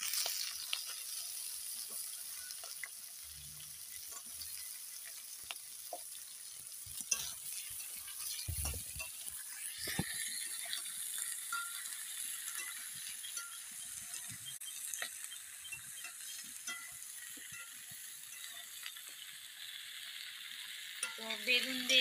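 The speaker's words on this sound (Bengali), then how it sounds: "তো বেগুন দিয়ে একটু নেড়ে চেড়ে নিলাম।" Eggplant and potato with silver fish fry and get stirred in a pan, giving a constant bright sizzle with occasional scraping and clinking strokes, close and without voices.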